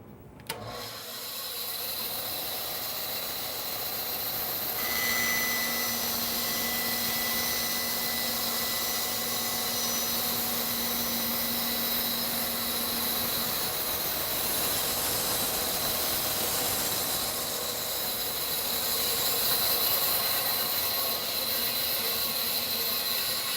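A bandsaw cuts along a drawn line on a board, guided by a new angled fence: a steady, loud machine whir and hiss running continuously with a faint tonal hum through the middle, no voices.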